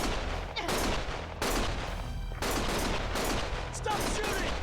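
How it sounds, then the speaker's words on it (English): Heavy gunfire in the video game Lost Judgment, loud sustained bursts of shots with a brief lull near the middle, under dramatic in-game dialogue. "Stop shooting!"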